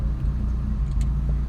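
A Vauxhall Cavalier SRi130 engine idles just under 1000 RPM with a steady, low rumble heard up close. The speed hunts slightly up and down.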